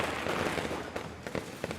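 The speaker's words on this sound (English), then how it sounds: "Firecrackers! Ceremonial ones." Ceremonial firecrackers pop in the video game Nine Sols, a rapid scatter of small crackling bursts over a steady hissing wash, with a few sharper snaps toward the end, fairly close but not very loud.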